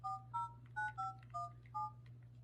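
A phone keypad sends a quick run of about seven paired-tone dial beeps in an even rhythm over a steady low hum, each beep short and clear at moderate level.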